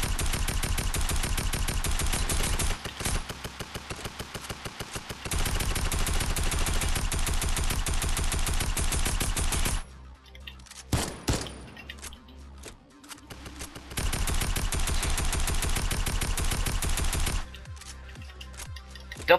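Sustained rapid automatic gunfire in Fortnite, long dense bursts of rattling shots broken by a few seconds of scattered single cracks and near-silence, then another long volley, fairly loud throughout.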